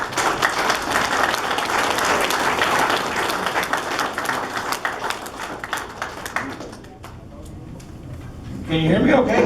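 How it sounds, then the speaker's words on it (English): Audience applause greets a speaker named Bill Oglesby, dense steady clapping that holds for several seconds, thins out near the end, then swells again briefly. "put a round of applause together for Mr."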